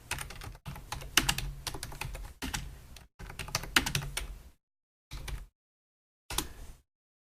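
Quick bursts of typing on a computer keyboard, close and crisp, with rapid key clacks in several runs separated by short silent pauses, the last two bursts brief.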